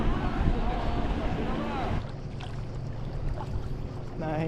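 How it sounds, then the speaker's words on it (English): Kayak paddling on Komani Lake in Albania, with water and wind noise around the boat and other boats' wake nearby; a sharp shift partway through leaves steady low water rumble and faint splashes, with a voice speaking briefly. "Okay, so we're on the kayak now."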